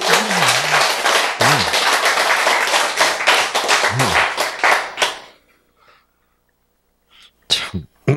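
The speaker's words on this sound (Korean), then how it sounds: "박수 한번 치세요." Congregation clapping hands during a church sermon, a loud dense patter for about five seconds with a few vocal sounds mixed in, then quiet apart from a couple of short sounds near the end.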